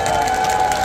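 A concert crowd at a trot singer's invited performance applauds and cheers for the production staff, a brief burst of clapping over a sustained musical tone.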